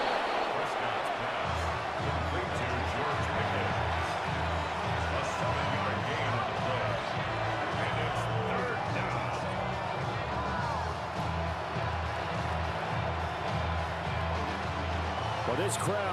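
Stadium crowd noise from a Cowboys vs Commanders game in Madden NFL 26 forms a steady, dense roar of murmuring and cheering throughout, with a commentator talking over it.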